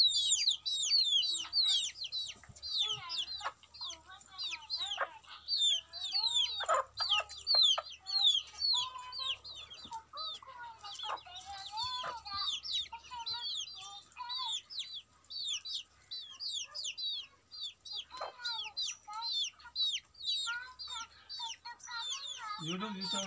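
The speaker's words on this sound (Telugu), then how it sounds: "చూడండి ఇది చిన్న జాతి కోడిపెట్ట పెద్ద జాతి కోడిపెట్ట" Hens of small and large country breeds cluck and call almost without pause, their busy, overlapping chatter mixed with sharper chirps from nearby birds.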